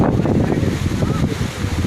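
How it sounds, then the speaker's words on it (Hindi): Strong wind blows hard during stormy, rainy weather at Rawal Dam, a loud, continuous gusty roar buffeting the microphone. "मौसम शदीद ख़राब है, बारिश हो रही है, तेज़ हवा चल रही है।"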